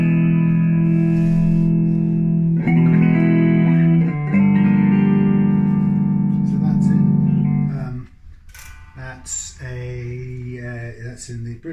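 Reloved Oakcaster 16 headless electric guitar played on a clean tone through the bridge pickup, untuned straight off the peg: sustained strummed chords ringing loud and steady for about eight seconds, then sparser, choppier picked notes.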